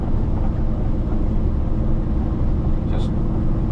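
A loaded semi truck cruises on flat road in 17th gear at 52 mph around 1350 rpm, a loud steady cab drone of engine and road rumble while someone talks over it.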